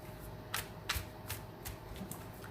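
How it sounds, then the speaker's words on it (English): Tarot cards are shuffled by hand in a few quick riffling bursts, close and crisp in a quiet room, with no talk. "I always shuffle this way because then it's easy to just pull a card"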